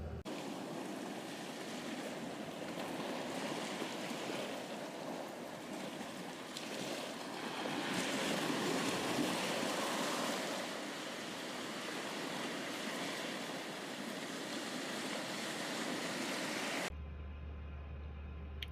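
Surf rolls onto Achninver Beach in the far north of Scotland, a steady broad wash of waves with gentle swells and no voices, cutting off abruptly near the end.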